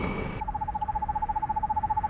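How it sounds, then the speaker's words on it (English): An owl hoots in a steady run of evenly spaced, soft, rapid pulses after a brief burst of other noise, clear and alone. "Oh no, that's just an owl or bird."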